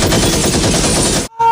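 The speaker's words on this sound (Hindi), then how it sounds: "भोजपुरी फिल्म इंडस्ट्री में मशीन गन का उपयोग किया गया है" Sustained, loud, rapid machine gun fire from the Bhojpuri film Sangharsh 2 teaser, a dense rattling burst that cuts off abruptly near the end, followed by a brief faint tone.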